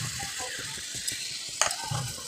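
Palm fruit fritter batter frying in a small wok of oil, a soft steady sizzle with light crackles and a brief sharper hiss midway, close by with no talk over it.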